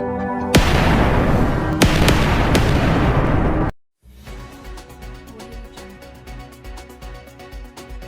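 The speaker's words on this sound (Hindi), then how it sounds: "आज अचानक हिसार में एक जोरदार धमाका हुआ" A loud explosion blast in Hisar rips out suddenly and roars on for about three seconds, cuts to brief silence, then gives way to a lower rumbling, crackling aftermath with scattered sharp pops.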